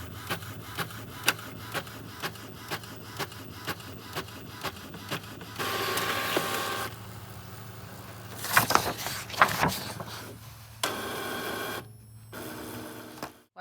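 An Epson printer feeding sublimation paper gives off a steady run of evenly spaced clicks and ticks, then bursts of louder mechanical whirring and rubbing as the print head travels, and finally quiets down near the end.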